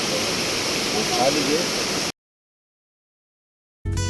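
Steady, loud rushing water of a waterfall at an eco cave park in Nainital, a continuous broadband roar that cuts off abruptly, followed by silence and a brief burst of sound at the end.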